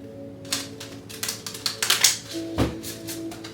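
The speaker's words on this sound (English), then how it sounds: "One more shuffle." A deck of tarot cards is shuffled by hand, a quick run of crisp riffling snaps and taps, close and moderately quiet, with no talking.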